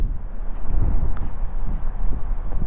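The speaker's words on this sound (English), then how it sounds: "Extremely windy here" Strong wind at Arches Provincial Park, Newfoundland, buffets the microphone in low, gusty rumbles that rise and fall continuously, with no one speaking.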